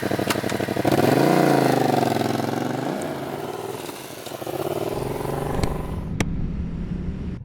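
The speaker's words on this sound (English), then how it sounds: "I've been riding around with the HJC RPHA90 and also with the Yamaha MT-07, which is actually quite a nice bike." A Yamaha MT-07 motorcycle ridden on the road, the engine rising in pitch under acceleration, then easing off into a steadier hum with wind rush, heard close from the rider's position.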